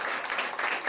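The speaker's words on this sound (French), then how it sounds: "peut l'applaudir" A brief burst of audience applause at a live magic and mentalism show, an even wash of clapping from a room full of people.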